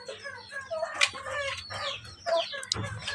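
Caged pet birds, a mother and father pair, give repeated clucking calls at close range, a few short bursts over about three seconds with no talk.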